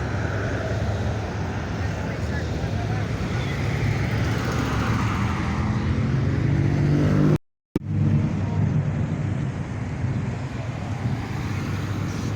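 Ford diesel truck accelerating hard in traffic at a spring rod run, a loud sustained roar with broad road noise, briefly cut by a short gap and then continuing.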